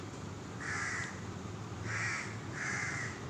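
A crow caws three times, the harsh calls spaced over a few seconds, fairly faint against a steady low background hum.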